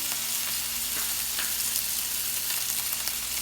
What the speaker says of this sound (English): The pan is nice and hot. It's steaming the oil, and he's just putting the fillets in there.